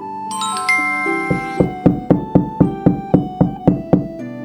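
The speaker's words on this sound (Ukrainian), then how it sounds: "Незабаром почулося грюкання у двері." An ogre pounds on a house door in a fairy tale: a brief ringing tonal lead-in, then a fast, evenly spaced run of about a dozen loud, sharp knocks, with no voices.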